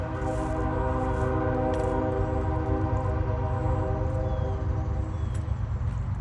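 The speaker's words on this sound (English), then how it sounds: "Hear our train in the background." A train runs through Brunswick on tracks very close by, its steady rumble and layered tonal hum holding loud and continuous for the whole stretch.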